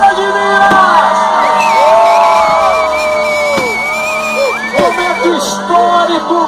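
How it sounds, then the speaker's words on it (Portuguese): A festival crowd at a Festa da Fogueira bonfire celebration in Cachoeira de Minas shouts, whoops and cheers loudly and continuously, with high voices rising and falling throughout. "Pode gritar, Cachoeira de Minas!"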